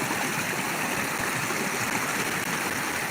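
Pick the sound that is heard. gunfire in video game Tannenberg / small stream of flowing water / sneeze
small stream of flowing water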